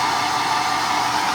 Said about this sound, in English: And I'm so sorry for having a hair dryer